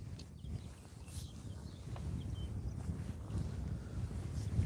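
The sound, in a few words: wind blowing at a fishing lake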